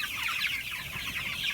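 A flock of foraging chickens clucks softly and continuously, overlapping chirpy clucks at moderate distance with no voices.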